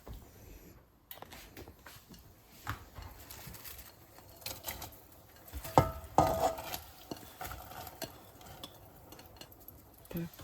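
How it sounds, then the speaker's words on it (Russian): Chopped cabbage drops into a pot of shchi, a village cabbage soup with meat, making a few soft clatters and rustles near the pot, with a brief louder knock midway. "И кладем капусту."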